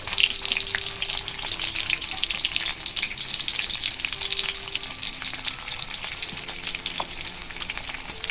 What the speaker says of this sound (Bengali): তেল গরম হয়ে গেলে এর মধ্যে দিয়ে দেব গোটা জিরে এবং পেঁয়াজ আর দিয়ে দেব কিছু কাঁচামরিচ